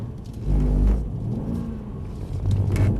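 A Mercedes-AMG C63 saloon on a driving-experience track at Mercedes-Benz World revs with a deep rumbling engine that surges, eases, then rises again, loud and near.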